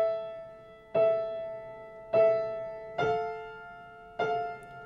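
An easy beginner song played slowly on piano, four separate chords or note groups struck at a steady, unhurried pace, each ringing and fading before the next, clear and close with no talking.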